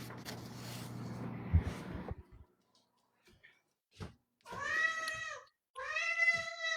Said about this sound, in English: hungry cat.